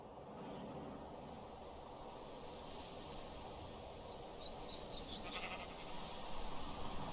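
A flock of sheep bleating in the Minecraft video game, a few faint bleats rising over a steady, noisy background hum, with no talking.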